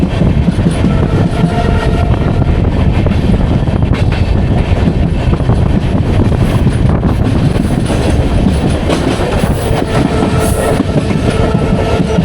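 A train runs through Pamban railway station without stopping, giving a loud, steady rumble of wheels on rails and carriage noise throughout, heard from on board with no talking.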